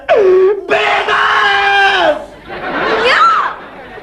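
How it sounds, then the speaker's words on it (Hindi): A loud, wailing scream from a man in an old comedy TV drama, drawn out and rising and falling, with a second anguished cry following close after. "इतनी जोर से चीखे हो मेरे कान में"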